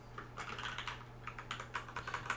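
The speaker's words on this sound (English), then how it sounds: "I am constantly typing backslash instead of return" Close, quiet typing on a computer keyboard with quick irregular bursts of key clicks over a faint steady hum.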